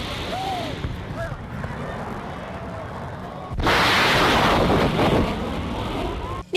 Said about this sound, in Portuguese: Este vídeo gravado por celular mostra o momento exato da explosão.